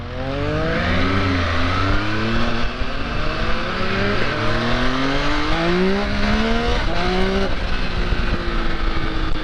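A 2024 MV Agusta Enduro Veloce motorcycle engine revs repeatedly through rising sweeps, climbing in pitch over and over with a loud, steady roar throughout.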